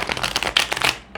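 A deck of tarot cards is shuffled by hand in a rapid, close burst of crisp riffling and flicking that lasts about a second and then stops.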